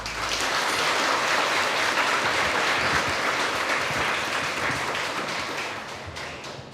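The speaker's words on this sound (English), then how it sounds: "Let's give her a warm round of applause" A room of institutional representatives, guests and professors breaks into a warm round of applause, dense and sustained for several seconds before tapering slightly at the end.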